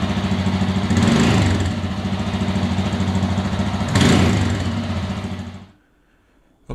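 A 2023 Royal Enfield Himalayan 411 motorcycle idles loudly and steadily nearby, with two brief blips of revving, before shutting off into near silence.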